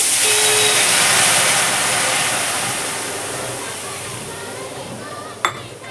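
Water goes into a hot cooking pot for a Koli-style Konkan fish meal, a loud hissing, steamy rush that slowly fades, ending with a single sharp knock.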